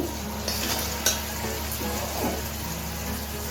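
Ground cumin, coriander, Kashmiri chilli and turmeric frying with a splash of water in a pan for egg curry, a steady soft sizzle with a few scraping stir clicks, close and moderately quiet, no talking.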